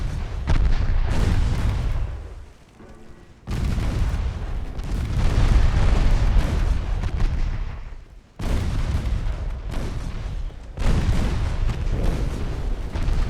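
Torpedo hits in a warship naval battle game: a run of heavy, rumbling explosions in three long bursts, loud and close, with brief lulls between them and no talking.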